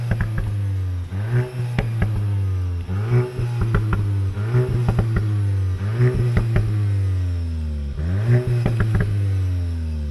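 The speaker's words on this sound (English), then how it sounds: "we find another distinctive element like the double exhaust pipes, and this is how the engine sounds like." A Volkswagen Golf GTI Mk8 engine sounds through its twin exhaust pipes, a steady idle broken by repeated throttle blips that rise and fall in a regular rhythm, heard close and fairly loud.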